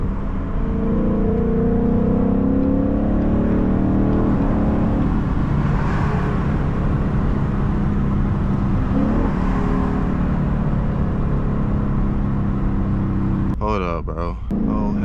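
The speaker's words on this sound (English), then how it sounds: "I'm just in a fast car." Engine of a fast car driving at night runs steadily throughout, a loud continuous hum with gear-like pitch sweeps rising and falling, close and sustained, ending with a brief burst of higher-pitched sound.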